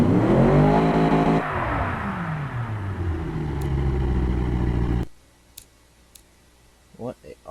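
An engine on a dyno test in the Automation car-building game revs loudly, its pitch sweeping up and down in steady harmonic bands for about five seconds, then cuts off abruptly, leaving a few faint clicks and brief blips.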